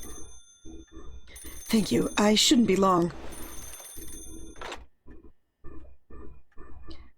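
A telephone rings in the video game Paranormasight, a bright bell-like trill sounding in bursts amid steady game music, with a person speaking briefly over it.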